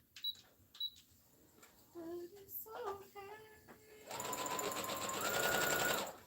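A sewing machine running a straight stitch around the whole perimeter of a garment piece: a few short squeaks and clicks, then a steady, close, rapid mechanical whirr through the second half.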